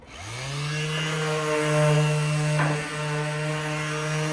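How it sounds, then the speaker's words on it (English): Small orbital sander fitted with 120 grit sanding screen spinning up and running against a steel flatbed surface, a steady close whine with slight shifts in pitch as pressure changes. "Then I just got a piece of 120 grit screen on a little orbital like this."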